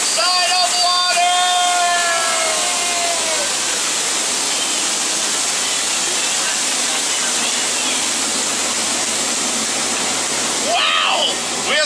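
Roaring waterfall on a jungle cruise boat ride, a loud, steady rush of falling water filling the whole stretch, with a few brief tonal sounds at the start and near the end.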